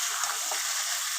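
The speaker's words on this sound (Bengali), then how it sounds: "একটু ভাজা ভাজা করে নিয়েছি," Boiled meat pieces frying in a pan give a brief, soft, steady sizzle with no voices.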